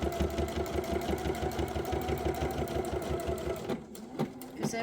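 A sewing machine stitches slowly through bulky fabric with a new needle, steady rapid mechanical thumping close by that labours a little before pausing near the end.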